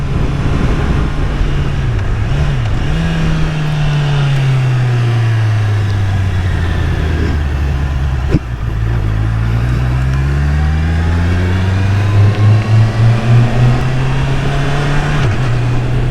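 Honda CBR650R motorcycle riding through quickshifter upshifts, a loud, close engine note that climbs and drops with each fast gear change, with a sharp break midway and steady rising pulls.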